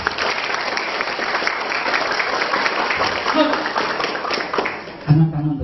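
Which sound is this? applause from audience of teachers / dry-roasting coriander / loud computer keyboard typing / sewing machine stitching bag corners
applause from audience of teachers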